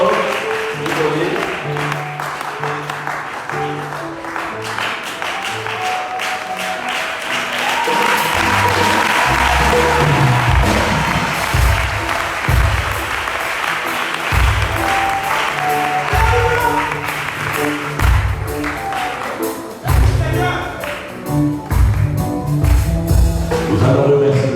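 Sustained congregation applause fills a Sunday church service, loud and dense throughout, with clapping rising after the first few seconds and some voices and music mixed underneath.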